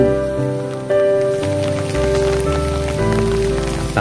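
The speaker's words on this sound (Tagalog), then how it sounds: "Ulan." Steady rain pours on a rice farm, a dense continuous hiss heard up close for a few seconds, layered over a constant musical drone with no voices.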